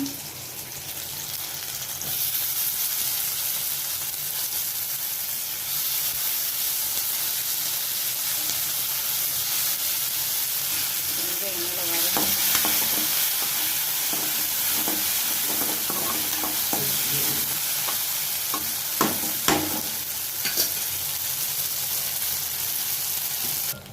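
Turkey berries go into a hot pan for a South Indian curry, giving a steady loud sizzle and hiss of frying with a spoon scraping and stirring through the middle, close by, no talk.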